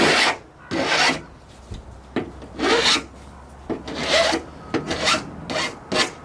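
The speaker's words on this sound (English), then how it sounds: "this is just taking down any burrs that you made during your cut." A metal file rasps along the rough, burred edges of a freshly cut window opening in a Dodge Promaster van's sheet-metal wall, with repeated close scraping strokes in an uneven rhythm and no speech.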